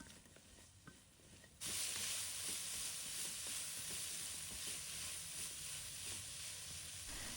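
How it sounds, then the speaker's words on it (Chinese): Broccoli and carrot are stir-fried with minced garlic in a hot pan, making a loud, continuous sizzle and hiss with scraping stirs. It starts softer, then swells suddenly as the vegetables hit the oil. "把西兰花放入锅中，翻炒一下。"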